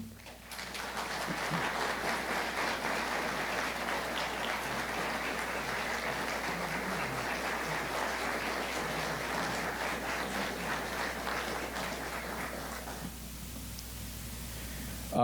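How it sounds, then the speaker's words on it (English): A veterans' honouring ceremony at the Billy Bishop Museum, where a room full of people gives Private Cohen a round of applause, dense steady clapping for about twelve seconds before it fades away quickly. "Could we please have a round of applause for Private Cohen?"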